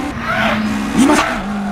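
A racing car's engine revs hard in the Initial D arcade racing game, a loud, close, rising whine with a short surge near the middle and a steady tonal drone throughout.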